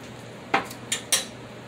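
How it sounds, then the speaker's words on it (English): Spoon stirring tomato sauce in a metal pot, giving three quick clinks and scrapes against the side, close and fairly quiet, no voices. "Give it a stir and take another taste."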